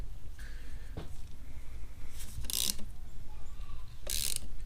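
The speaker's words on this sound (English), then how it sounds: "I love this little ratchet. This thing's so handy." A small hand ratchet turning a fastener on a Honda Type R VTEC cylinder head during a budget rebuild, with a few short close clicking bursts amid workshop background noise and no talk.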